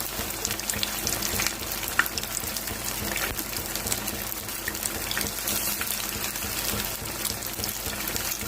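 Jackfruit pieces dipped in batter frying in oil on a low flame, giving a continuous soft, even crackle and bubbling with no voices.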